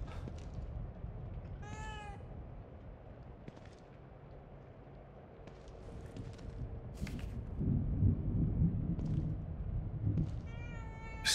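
A cat in the survival horror game The Evil Within 2 meows twice, once early and once at the end, each call clear over a low, rumbling ambient drone that grows louder.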